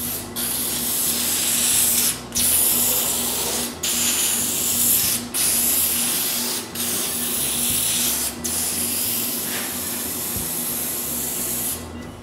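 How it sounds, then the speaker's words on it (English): Metal preservative is sprayed from an aerosol can onto the exposed metal of a table saw, a loud close hiss in several long bursts separated by short pauses. "I spray a coat of metal preservative on the exposed metal"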